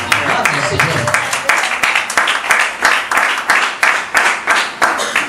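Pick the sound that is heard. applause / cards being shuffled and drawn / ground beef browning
applause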